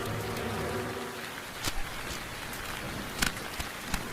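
Steady rain falls in a dense, close hiss in a children's cartoon scene, with a few sharper drips and taps breaking through the constant wash.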